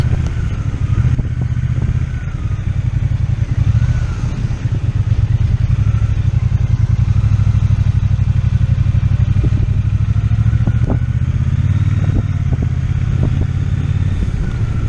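A Triumph Bonneville T120 fitted with a Puig semi fairing rides at about 30–35 mph, its engine a steady low rumble with light clatter and wind, close and continuous throughout.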